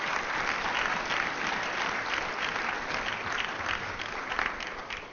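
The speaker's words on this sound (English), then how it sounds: "Let's give them a round of applause." Steady, dense applause from the audience at a mayor's press conference for an MLK Day of Service, loud and continuous throughout with no pauses or voices over it.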